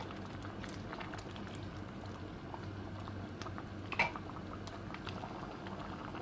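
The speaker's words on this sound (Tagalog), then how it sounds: "kumukulo na po siya" Mung bean soup with malunggay simmering on low heat in a pot, a faint, continuous bubbling with scattered small pops and one slightly louder burst partway through.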